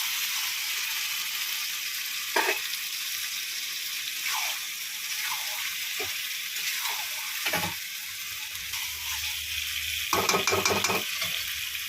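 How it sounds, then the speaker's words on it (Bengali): Potatoes sautéed in fried spice paste for a Kashmiri-style aloo dum, giving a steady close sizzle throughout, with occasional knocks and scrapes from stirring against the pan. "এবার আমি আলু দিয়ে কষিয়ে নেব।"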